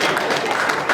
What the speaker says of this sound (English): Please clap for me, please.